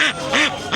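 A Belgian duck at a Bangladeshi village market quacks loudly and close by in three evenly spaced bursts, each a nasal, raspy call, with no talk over it.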